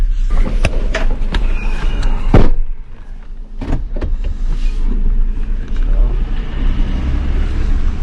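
A car pulls out through a security gate: a low engine rumble heard from inside the cabin, with a few knocks and mechanical whirs, and faint voices now and then.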